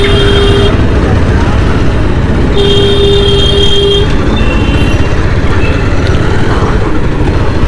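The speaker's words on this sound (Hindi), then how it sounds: "पूरे रोड पे देखिए बाइक ही बाइक है।" Loud, dense motorbike traffic on a street lined with bike repair shops, a constant engine roar with short horn toots and beeps cutting through, and voices in the background.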